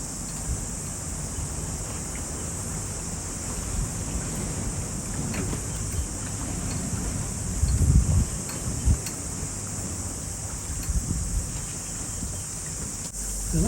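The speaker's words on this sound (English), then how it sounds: "Still very windy coming out of that bay though." Gale-force wind blows across a bay, a steady blustery rush with low gusting buffets that swell briefly midway, close to the microphone.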